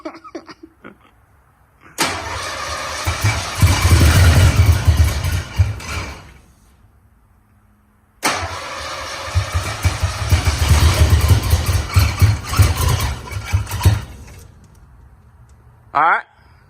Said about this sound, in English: All right, this is the first startup.